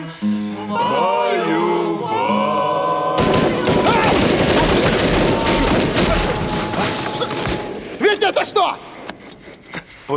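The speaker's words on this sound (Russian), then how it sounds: "Пулемет." Machine gun fire bursts in during a scene in a war drama, a loud dense crackle that fills the middle stretch, with a voice heard before it and sharp separate shots trailing off near the end.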